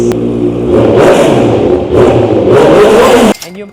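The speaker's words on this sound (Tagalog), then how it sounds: "Soundcheck na rin natin kung gaano kaganda ang full system." Motorcycle fitted with a full exhaust system, revved hard in repeated loud bursts close to the listener, the engine dropping away sharply at the end, with a voice briefly audible.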